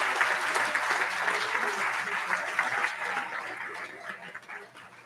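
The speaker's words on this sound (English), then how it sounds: "Now you can applaud." Applause from an audience at an annual charity celebration: dense, steady clapping fills the room for the whole stretch, fading slightly toward the end, with no talk over it.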